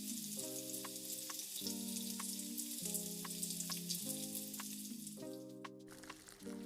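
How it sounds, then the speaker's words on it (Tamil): Prawn donne biryani masala sautéing in a pan over a full flame, a steady close sizzle and frying hiss with stirring scrapes and shifts, with a background instrumental tune and no talking. "அதையும் நல்லா வதக்கிடுங்க"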